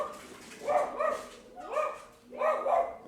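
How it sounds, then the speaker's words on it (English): Dogs barking in repeated bursts, roughly three rounds of yips and barks at a moderate distance, with soft breathy background between them. "dogs are barking"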